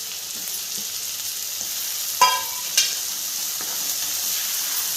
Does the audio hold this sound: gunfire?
no